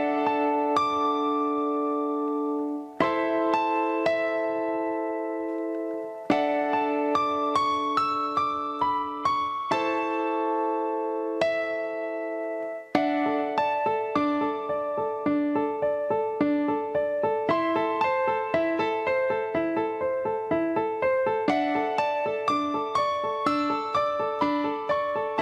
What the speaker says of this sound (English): This is the stereo keys combi, which is O1. It sounds like this.